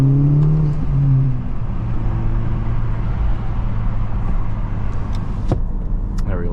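A Honda Civic Type R FL5 with about 13,000 miles drives along in windy weather, its engine hum and road noise steady and close from inside the cabin, with a few brief clicks and whirs.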